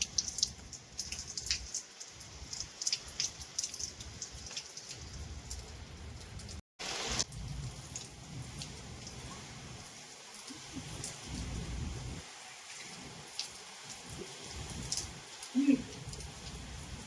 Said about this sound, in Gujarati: આજે તો મિત્રો વરસાદની સાથે પવન પણ છે ફૂલ અને કડાકા ભડાકા સાથે છે વરસાદ